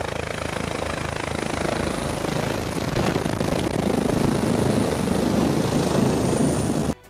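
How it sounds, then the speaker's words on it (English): A landing helicopter's rotor and engine thrum loudly and steadily close by, growing slightly stronger before cutting off abruptly at the end. "This helicopter pilot performs a precision landing."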